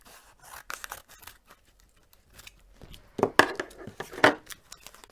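Quiet snipping and crisp cuts from scissors, a few scattered soft clicks followed by two sharper, louder snips close by.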